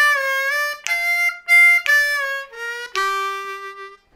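Blues harmonica on a C-key harp playing a lick that opens with a triplet, four draw with a half-step bend, as a run of clear, sustained reedy notes with pitch changes and bends, played solo and close.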